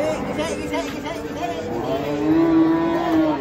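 A raging cow being unloaded from a truck at Pasar Pon market in Ambarawa lets out a sustained, rising moo, loud and close amid a crowd's hubbub.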